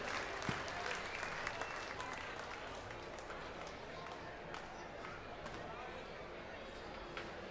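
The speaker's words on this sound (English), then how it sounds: "Give them all another big round of applause," Another big round of applause from the audience at the Balmoral Show sheep shearing event, a sustained broad wash of many hands clapping with occasional sharper claps, voices and crowd murmur faintly underneath.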